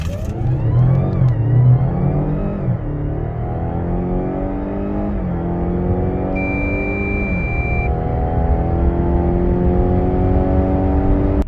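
A Mazda CX-60 2.5 e-SKYACTIV PHEV with 8-speed automatic and AWD accelerates hard from a standstill, engine note rising loud and close through several upshifts, each marked by a brief dip before the pitch climbs again.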